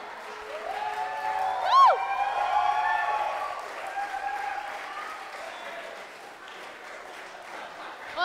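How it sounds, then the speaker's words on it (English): Guests at a wedding reception give long, sustained applause that carries on for several seconds as a dense, steady wash of clapping, with a voice rising briefly over it. "can we go with the clap, like really long clap?"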